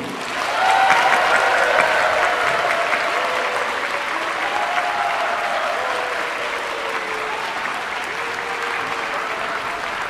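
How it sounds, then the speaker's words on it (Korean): A concert hall audience gives sustained applause to welcome the Geoje City youth orchestra, an even wash of many hands clapping that holds steady throughout, with faint voices mixed into the crowd noise. "박수 주십시오"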